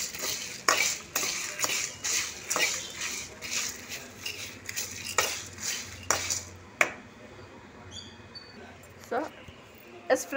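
Ivy gourd (dondakaya) frying in a pan as a metal spoon stirs it, with a steady run of close scraping and clinking taps over a faint sizzle, while someone talks throughout.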